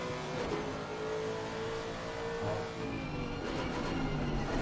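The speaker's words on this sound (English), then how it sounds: "You can hear those tyres squealing." Race car engine at Suzuka circuit, a continuous loud rising and falling engine roar with faint tyre squeal mixed in during close wheel-to-wheel racing, no voices.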